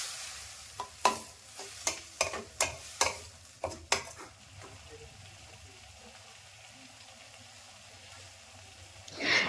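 Pan-frying tomatoes with poppy seed paste and white mustard paste for a potol posto katla dish, with a run of sharp stirring knocks against the pan over a low sizzle, then a quieter steady fry.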